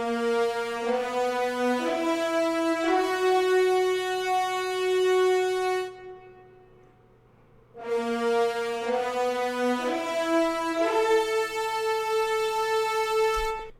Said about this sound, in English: So the horns sound like this.